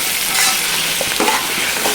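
Green chilies get stirred into crab curry frying in a pan, with a steady, loud sizzle and a few scraping stirs close up and no talking.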